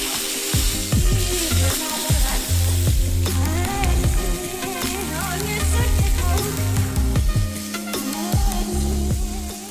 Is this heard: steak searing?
yes